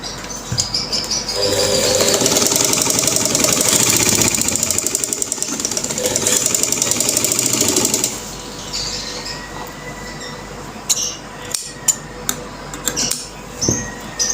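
A domestic sewing machine stitches baby boy clothing with a loud, steady mechanical whir for several seconds, then stops, leaving quieter intermittent clicks and handling sounds.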